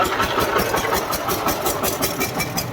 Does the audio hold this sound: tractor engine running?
yes